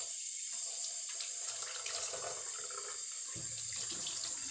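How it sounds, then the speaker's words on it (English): Water runs steadily from the small spigot of a Berkey countertop water purifier, a thin, continuous trickle heard close and alone. "faucet right here and kind of flush some water into it"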